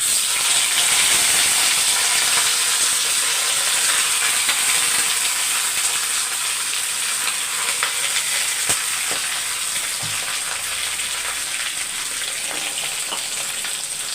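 Curry leaves and sliced plantain sizzle in hot oil in a home kitchen, a steady bright frying hiss that holds throughout with occasional faint clinks of utensils.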